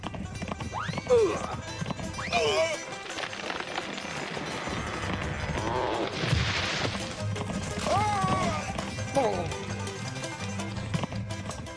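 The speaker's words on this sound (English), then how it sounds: "You have a truly extraordinary horse, Mr. Luke." Horse hooves clip-clop at a steady trot beneath whistles, shouts and busy cartoon sound effects from the 1991 animated series Lucky Luke.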